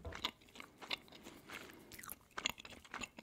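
A marzipan figure coated in white chocolate is bitten and chewed close to the mic, with several quiet crunchy bites and soft chewing spaced irregularly over a few seconds.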